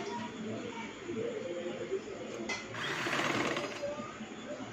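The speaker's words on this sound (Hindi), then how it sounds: "तो ये मैं पूरी गले की गोलाई में इस पट्टी के ऊपर बिल्कुल साथ करके सिलाई लगा रही हूँ।" Electric sewing machine running in quick bursts while stitching a fabric strip around a back neckline, its rapid mechanical whirr close and steady, briefly pausing, with someone talking over it.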